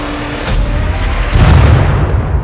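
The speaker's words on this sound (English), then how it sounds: "The most dangerous weapon is actually artillery." Artillery shells land in the colony-building video game RimWorld, a pair of deep, muffled booms with a rumbling tail, loud and close with no talk.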